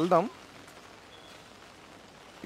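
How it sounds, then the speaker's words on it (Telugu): Heavy rain falls during a landslide rescue operation in Wayanad as a soft, steady wash of noise, with brief bursts of voices at the start and end. "ఎందుకంటే భారీ వర్షం కురుస్తుంది"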